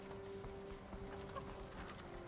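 Steady clip-clop of horse hooves trotting at a moderate pace in the video game Ghost of Tsushima, fairly close, with a faint mechanical rattle underneath.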